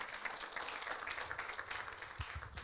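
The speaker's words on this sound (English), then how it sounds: "Give her a hand clap." Audience applause for a speaker introduced at a youth town hall debate, a steady wash of many hands clapping that fills the whole stretch at moderate, even loudness.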